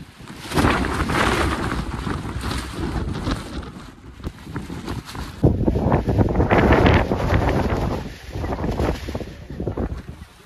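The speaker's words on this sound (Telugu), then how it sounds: "టూ మచ్ విండ్స్, గాలి దారుణం పైన, ఫుల్ ఆన్ చలి." Strong gusty wind buffets the microphone at a mountain peak about 6,317 feet high in the Western Ghats of Karnataka, a loud continuous roar that surges and eases, with no voices.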